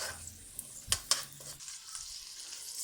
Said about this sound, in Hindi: अब मैं इसमें डालूंगी चावल।